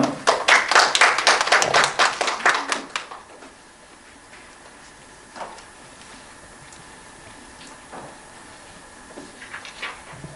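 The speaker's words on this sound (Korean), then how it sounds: "예, 박수로 모시겠습니다." An audience at a seminar on cosmetic risk assessment claps to welcome a presenter. A burst of brisk applause lasts about three seconds, then dies away into a quiet room with a few faint scattered noises.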